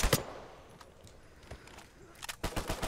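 Gunfire in Uncharted 4 multiplayer: a sharp close burst at the start, scattered distant shots through the middle, then a rapid stuttering automatic volley at the end.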